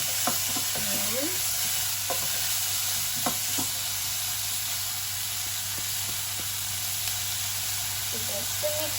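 Refried beans being stirred in a hot pan, a steady hiss of sizzling under a faint spoon scraping at intervals, close and quiet, with a constant background hum.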